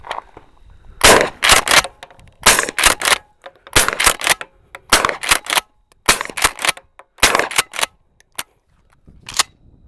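Suppressed shotgun firing full-size birdshot and slug loads through a Rex Silentium SEG12 suppressor, a rapid series of sharp, loud muffled reports in bursts of two to four shots separated by brief pauses, with no talking.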